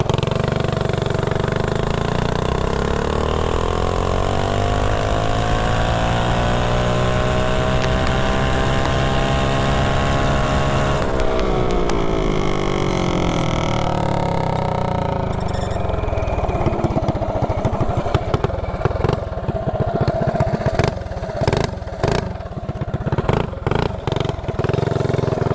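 Small mini bike engine with an upgraded carburetor revs up and winds down on a test ride, its pitch rising then dropping, followed by sputtering, uneven idle with bursts of throttle.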